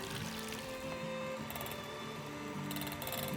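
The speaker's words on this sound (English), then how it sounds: "in a small mixing bowl, add 2 egg whites and beat until they're frothy" Electric mixer beating two egg whites in a small mixing bowl until frothy, a steady whirring, rattling mechanical drone with faint clicking beaters, quiet and continuous without speech.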